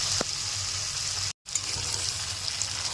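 Marinated chicken stirred through spiced oil in a kadai, giving a continuous close sizzle with faint scraping, interrupted by one short silent gap.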